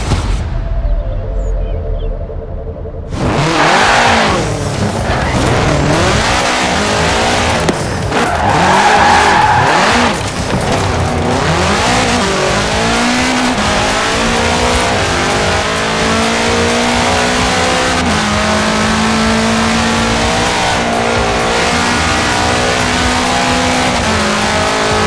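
A 1966 Volkswagen Beetle fitted with a 2.5-liter F4 turbo engine in Forza Horizon 4 roars loudly and steadily, engine pitch climbing and shifting while tires squeal and skid throughout, with no talking.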